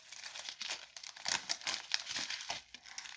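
A plastic bag being handled and crinkled, giving a quick run of crisp rustles and crackles, close and fairly quiet, with no talk.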